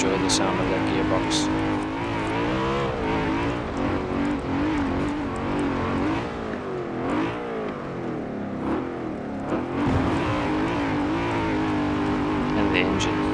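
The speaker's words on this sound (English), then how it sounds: "Enjoy the sound of that gearbox." Loud race car engine of a stock 2002 BMW M3-GTR in Forza Horizon 4 droning and revving with gearbox whine, pitch climbing and dropping through shifts, while a person talks over it.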